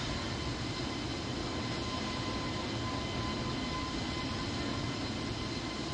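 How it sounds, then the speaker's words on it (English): Alaska Airlines Airbus A320neo engines at climb power, a steady, loud, unbroken roar with a faint whine running through it, heard from inside the cabin. "Okay, we've got climb power in."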